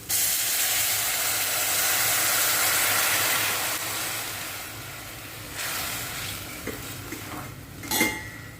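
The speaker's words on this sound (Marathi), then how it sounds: "तर कांदा इथे चांगला फ्राय करून झाला आहे आपण इथे गरम पाणी घालून घेऊ" Hot water poured onto well-fried onions in a pan while making upma sends up a loud, steady hiss of steam that fades after several seconds, followed by a few clinks of utensils against the pot.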